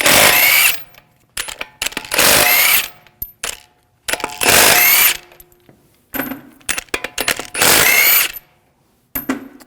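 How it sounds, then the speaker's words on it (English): Lug bolts on a 2001-2009 Volvo S60 wheel being spun out with a power tool and a 19mm socket, several loud rattling bursts of about a second each, separated by short pauses and small clinks of metal. "Take the lug bolts out. Use a 19mm socket."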